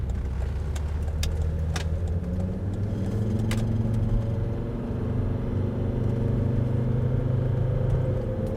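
Volvo XC90 D5 diesel five-cylinder engine driving on the road, a steady, smooth low rumble that holds throughout, with no one talking.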